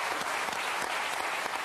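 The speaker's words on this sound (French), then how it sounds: "Allez, on les applaudit." Dense studio audience applause on a French television show, a steady wash of clapping with no break, heard alone.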